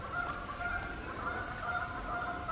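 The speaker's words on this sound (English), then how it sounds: "Here's some geese." Geese honking on a nature walk near a city lake in Arkansas, a steady run of calls at moderate distance over outdoor background noise, with no talking.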